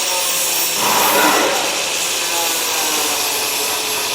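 A power saw cuts a hole through a vehicle bumper as an approved modification. The cutting is a steady, harsh, broadband grinding-rasp that runs continuously and loudly for the whole stretch, with no voices.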